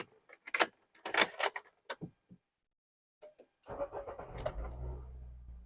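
A Nissan Grand Livina engine cranks and catches after some keys and door clatter, then settles into a loud, steady, high idle close by.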